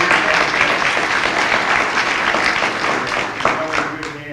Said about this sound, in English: Let's give Jeff a big round of applause.